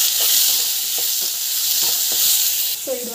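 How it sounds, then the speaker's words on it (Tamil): Three green chillies sauté in a pan with a loud, continuous hissing sizzle, broken by a few soft stirring taps and a brief clink near the end. "ஸோ மிளகாய் 3 வந்து போட்டு வதக்கலாம்"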